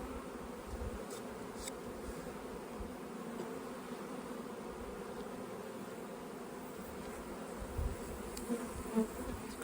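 A honeybee colony hums steadily in an opened hive, a dense continuous buzz with occasional louder individual bees passing close, no talk.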